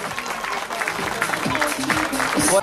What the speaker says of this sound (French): on l'applaudit encore une fois très très fort